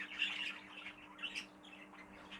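Exhibition budgerigars squawk and chatter in a bird shed, a quiet scatter of sharp, high calls overlapping one another over a faint steady hum, with no talking.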